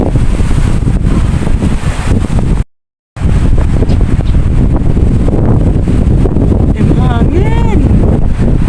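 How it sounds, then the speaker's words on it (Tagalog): Strong wind buffets the microphone outside IFC Mall, a constant loud low roar with gusty rumble, briefly cutting out before resuming, with faint tonal whines near the end. "Grabe, mahangin guys."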